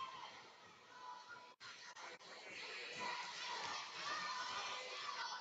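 Arminia Bielefeld fans cheering after a goal against Borussia Dortmund at an indoor round-of-16 football match, a loud sustained crowd roar full of high shouting voices that briefly cuts out, then swells and keeps going.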